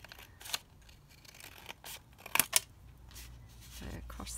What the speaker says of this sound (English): what I'm going to do is cut this down a bit